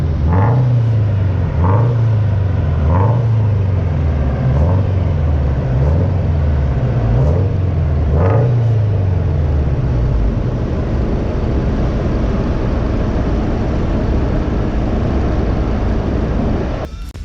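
A boosted Scion FR-S on a dyno with a full titanium exhaust, loud and close, revving repeatedly in rising and falling pulls before settling into a sustained high drone.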